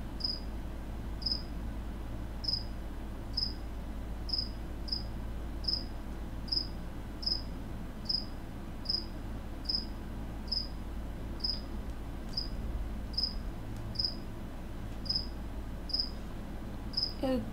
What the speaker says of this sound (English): Oh, cricket's keeping me company.